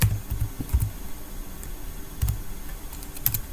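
Someone types on a computer keyboard with quick, irregular clusters of soft keystrokes and brief pauses between them, close and alone.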